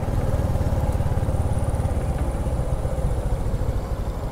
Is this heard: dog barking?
no